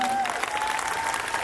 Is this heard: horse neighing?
no